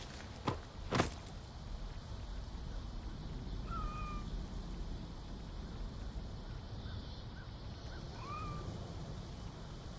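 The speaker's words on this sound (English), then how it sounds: "I can hear a cat meowing strangely." In Assassin's Creed Origins, a cat gives a few faint, thin meows spaced several seconds apart over a steady ambient hiss, after two sharp knocks at the start.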